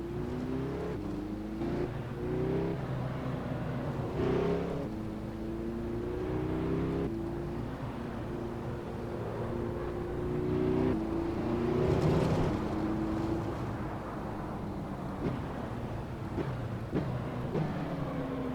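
Porsche 918 hypercar engine in the Assetto Corsa racing game, revving up and down through the gearbox with rising whines and quick shift breaks, loud and continuous throughout.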